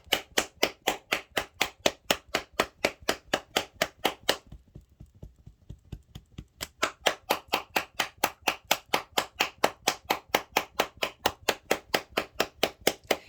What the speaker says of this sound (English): this has been the most clapping that's come through in a reading